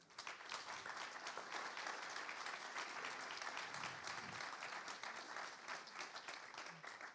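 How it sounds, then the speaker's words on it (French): Steady applause from a seated audience at a French conference session, continuous close-packed clapping heard fairly faintly and at an even level throughout with no talk over it. "je pense qu'on peut les applaudir"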